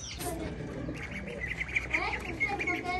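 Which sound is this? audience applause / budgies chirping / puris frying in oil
budgies chirping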